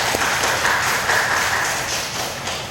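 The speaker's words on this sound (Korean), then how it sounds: "우리 박수로 환영해 주시기" Congregation at Suwon Sunggwang Church applauding to welcome members back from Italy, a steady wash of clapping from a roomful of people, fairly loud and continuous with no pauses.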